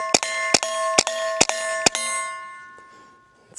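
Five sharp metallic clangs of bullets from a B&T Print-X striking a steel target, evenly spaced about half a second apart. Each hit rings with a bright, bell-like tone, and the last one fades into a lingering resonance. No talking.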